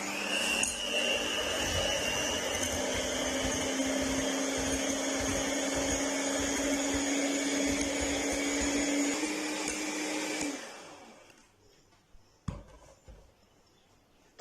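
An electric beater whips half a cup of whipping cream in a bowl, giving a loud, steady motor whine for about ten seconds before it cuts off, leaving a few faint clatters.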